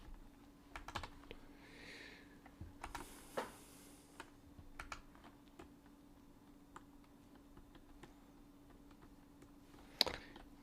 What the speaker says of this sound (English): I have a new keyboard. Can you hear it? It makes way more noise than the other one